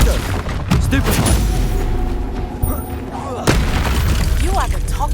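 Spell blasts during combat in the game Hogwarts Legacy, with heavy, booming explosive hits and crackling bursts repeating throughout, loud and close, alongside shouted incantations.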